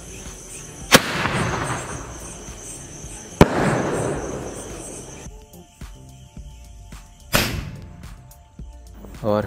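Cock Brand Penta Sky Flash mini sky shot fireworks tested outdoors: a few sharp, loud launch cracks spaced seconds apart, each followed by a crackling hiss and rumble that trails off.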